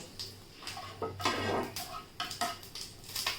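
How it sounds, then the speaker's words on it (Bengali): Pre-fried potato and taro pieces go into a pan of hot oil with dried chili, panch phoron and garlic, giving quiet clinks of a utensil and a short burst of sizzling, close and soft. "আর আমি আলু আর একটু কচু আগে ভেজে রেখেছি, সেইটা আমি এখন দিয়ে দেবো।"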